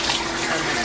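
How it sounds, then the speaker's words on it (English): Cold tap water running over freshly boiled eggs, a loud, steady, close-up splashing stream filling the whole short moment with no voices. "Key is to put cold water on them right away."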